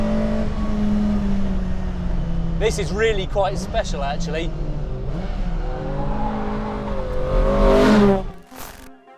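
A BMW M3 E30 Redux restomod, built as a CSL-style car, runs with a steady engine drone and rising revs beneath someone talking, then falls away sharply at the end.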